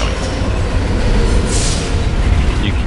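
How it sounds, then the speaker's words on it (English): A train thunders past in the video game Alpha Protocol as a dense, loud, continuous roar of wheels and rumbling carriages, with a brief brighter screech of rail noise partway through. "yeah, train coming."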